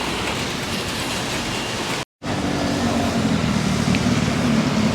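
Dense, hissing rain pours down steadily in Taipei with a low traffic rumble underneath, broken by a brief cut to silence partway through.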